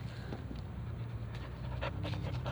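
A dog pants close by in quick, steady breaths for a couple of seconds, with no talking over it.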